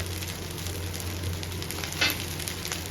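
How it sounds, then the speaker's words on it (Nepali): Homemade chicken fried rice cooks in a pan with a steady, close sizzle and crackle, a brief louder scrape or stir partway through, over a low background hum and with no talk. "नुन एड गरिसकेपछि यसलाई मजाले पकाउँदै जानुहोस्।"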